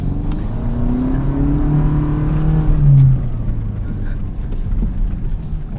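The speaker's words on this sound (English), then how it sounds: "Ride is really nice off-road." A 2025 Toyota 4Runner TRD Pro driven off-road, heard from the cabin as a steady low engine drone that rises briefly in pitch, with rumbling tyres and road noise beneath throughout.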